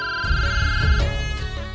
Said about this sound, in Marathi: हे आता कुणाचा फोन आला बाई?